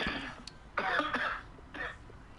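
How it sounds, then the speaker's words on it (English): Several short, rough coughs from a man during a game livestream, heard as a brief cluster of bursts with small pauses between them, close and moderately loud. "I just still have that cough a little bit from 2019"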